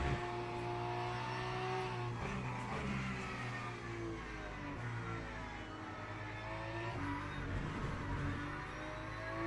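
Porsche race car at Le Mans in a racing video game, its engine droning and revving continuously with shifting pitch as it pushes through corners, loud and steady with no talk.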